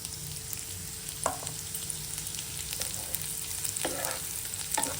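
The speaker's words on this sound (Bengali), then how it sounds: "পেঁয়াজটা দেখুন ভাজা ভাজা হয়ে গিয়েছে।" Onions fry in a pan for a prawn dish with mustard and poppy seed, a steady close crackling sizzle throughout, broken by a few short scraping stirs.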